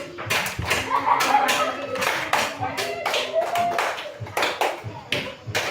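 Hands clap out a steady beat in a repeating pattern, some claps louder than others, with a voice speaking faintly underneath.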